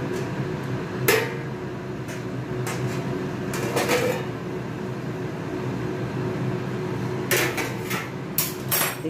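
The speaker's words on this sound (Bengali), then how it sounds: "এবার চাপাটা খুলছি।" Metal lid lifted off a cooking pot of simmering lote fish curry. A few sharp clanks and clinks are spaced apart over a steady low kitchen hum.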